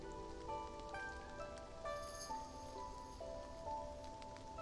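Steady rain falls in the video game Love and Deepspace, a soft continuous patter under tonal music, with no voices.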